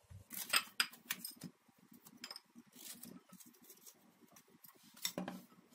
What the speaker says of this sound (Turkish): Elmalarımı doğramaya başlayabilirim.